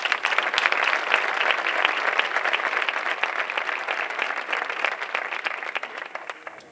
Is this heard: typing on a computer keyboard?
no